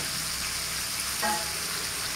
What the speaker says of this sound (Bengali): ভালো করে ভেজে নিতে হবে ফুলকপিটাকে।